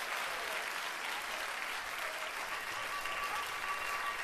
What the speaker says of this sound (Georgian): აპლოდისმენტები და უსმენთ